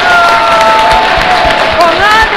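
Studio audience applauding and cheering at the start of a Spanish-language TV program, a loud dense wash of clapping with whoops and shouts layered over a voice and musical tones.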